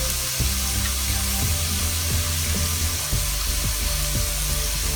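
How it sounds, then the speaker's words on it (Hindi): Chicken and vegetables seasoned with black pepper and salt fry in a pan, giving a steady, dense sizzle with low clatter and scraping from stirring throughout. "इनको भी हम 1 से 2 मिनट के लिए हल्का सा फ्राई कर लेंगे"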